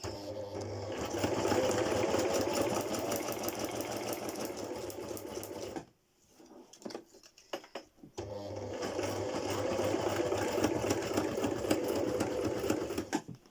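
A sewing machine stitches paper in a fast, steady mechanical whir, pauses briefly with a few soft clicks, then starts stitching again at the same pace.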